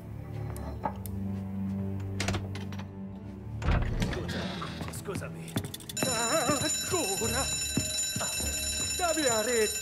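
An alarm bell ringing during a heist in the video game Mafia Remake, a continuous loud metallic ring that starts partway through, under shouting voices and a tense game soundtrack.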